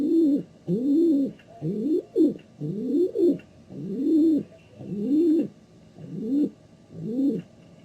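Pigeons coo softly and steadily, a run of about eight rounded, rolling calls repeating in close succession with brief gaps, near and clear with no voices over them.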